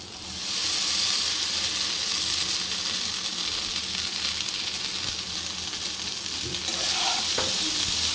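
Boiled chow mein noodles fry in a pan with onions and potatoes, giving a steady, loud sizzle with stirring scrapes and a few sharp clinks near the end.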